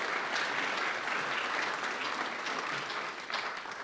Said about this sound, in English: so a round of applause there